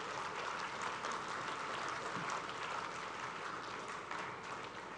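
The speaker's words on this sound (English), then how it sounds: "So one round of applause to yourself," Graduation ceremony audience applauding in a large hall, a steady, dense wash of many hands clapping at even loudness for the full span, no voices over it.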